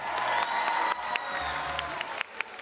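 An audience claps and cheers at a stage event, a dense burst of applause with a few whoops, held at moderate distance.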